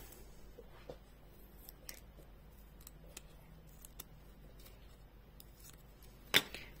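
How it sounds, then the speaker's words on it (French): Scissors snipping paper card for a scrapbooking flap card, heard as small scattered crisp clicks and snips at close range. One sharper louder cut comes near the end, and no one speaks. "Allez, on va prendre le ciseau."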